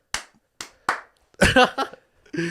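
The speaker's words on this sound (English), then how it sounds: "Wait, I'll clap to sync the audio." A single sharp hand clap made to sync audio on a podcast set, followed by a few more isolated claps and smacks at uneven intervals, then a voice speaking up close.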